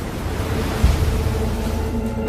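Stormy open sea with heavy surf and waves battering a ship, strong wind roaring over the water, a continuous loud rumble with a surge of crashing water near the middle.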